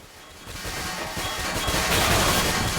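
Dense, sustained gunfire in a Counter-Strike match on the de_cache map, including CZ75 pistol shots, building in intensity as a rapid burst of overlapping shots fills the whole clip.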